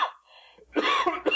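A man coughs in a short, throaty burst, then again after a brief pause, close and loud; a soft wheezy tone comes before the coughs.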